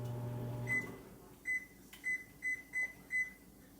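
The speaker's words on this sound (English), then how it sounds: "I almost started the microwave instead of the timer." A microwave oven beeps in a short series of clear electronic tones, one then a run of five, over faint background hum.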